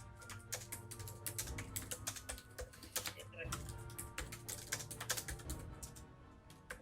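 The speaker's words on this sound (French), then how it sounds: "Ouh, le clavier s'emballe. Le clavier chauffe." Fast typing on a computer keyboard during a timed writing challenge, a rapid irregular run of close, sharp key clicks, with a voice murmuring now and then underneath.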